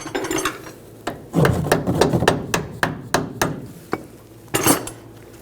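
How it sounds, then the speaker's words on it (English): Metal upper control arm being tapped into place with a hammer on a 2014-2018 GMC Sierra, a string of sharp close knocks at an uneven rhythm, some clustered quickly and others spaced apart, with no talking. "Tap that in place."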